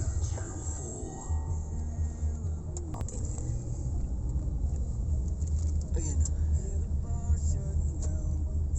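Road traffic rumbles steadily inside the University of Sharjah campus, car engines and tyres passing under ongoing conversation from people in a vehicle.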